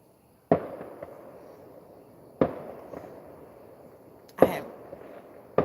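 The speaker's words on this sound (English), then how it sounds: "It sounds like fireworks." Fireworks go off outside, three sharp distant bangs several seconds apart, each followed by a short rumbling echo, with quiet surroundings in between and the start of a fourth at the end.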